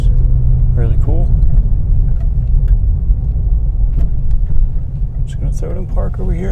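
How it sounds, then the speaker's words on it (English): A BMW F30 with a cold air intake revs loudly up close, its engine note climbing and falling through a couple of sharp throttle blips over a steady idle rumble. "Just give it a few revs and let you hear it."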